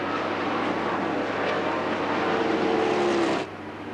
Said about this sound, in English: The thunder from these cars